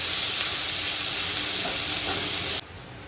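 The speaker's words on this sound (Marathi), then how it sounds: "आता कांदा व्यवस्थित परतून घ्यायचा थोडा वेळ, म्हणजे रंग चेंज होईपर्यंत" Onion sautéing in a pan for a traditional Konkani wild vegetable dish, a loud, close, continuous hiss of frying with faint stirring, easing off abruptly near the end.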